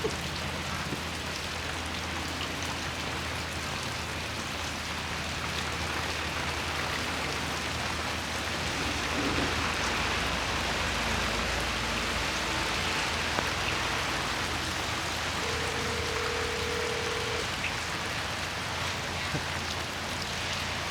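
Steady heavy rain pours down throughout, a dense continuous hiss of drops drumming on a surface, loud and close with no pauses.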